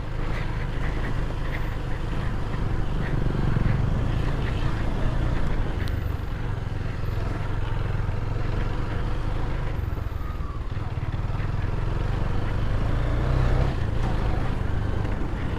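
A KTM Duke motorcycle rides off-road through slippery mud on the way to a waterfall near Kathmandu, its engine droning steadily and loudly throughout, with speech heard over it.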